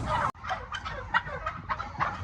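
Turkeys gobble and cluck around floor feeders in a turkey barn, a dense, continuous flock chorus with overlapping calls throughout, briefly cutting out near the start.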